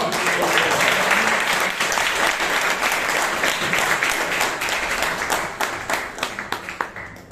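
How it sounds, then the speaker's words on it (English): Sustained audience applause greets a speaker at a Bangalore Toastmasters club meeting, a dense, steady clapping wash lasting several seconds before thinning into scattered claps at the end. "please welcome with a round of applause Amrit."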